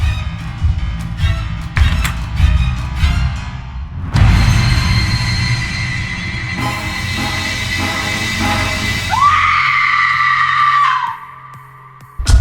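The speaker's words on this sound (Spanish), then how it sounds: "Ashley encuentra el cadáver de Madeleine, el grito que lanza, fue anteriormente escuchado al principio de la película" A woman screams in the horror film Cult of Chucky amid loud, chaotic noise and rumbling, ending in a sustained high shriek that cuts off abruptly.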